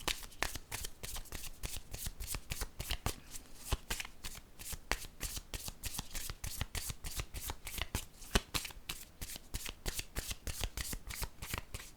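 A deck of tarot cards being shuffled by hand, rapid rhythmic riffling and flapping bursts repeating steadily, close and quiet with no talk.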